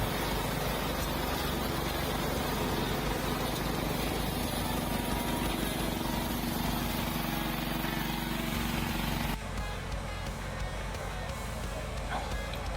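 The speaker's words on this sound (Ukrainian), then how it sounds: "Дивіться, такий комбайн, невеличкий, але він справляється з соєю." A small harvester's engine drones loud and steady nearby, with machinery churning continuously before the sound abruptly drops to a lower hum.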